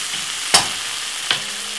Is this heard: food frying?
yes